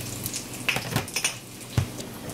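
Smoked bacon strips crisping over a low flame in a dry pan, giving a quiet, faint sizzle with a few soft clinks and taps of utensils against the pan.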